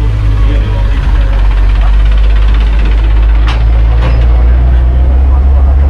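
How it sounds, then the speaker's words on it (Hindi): A tractor engine drones heavily and close by at a jungle safari in Nava Raipur, a steady loud knocking rumble that fills the scene while people talk over it. "सामने में ट्रैक्टर भी आ रहे हैं"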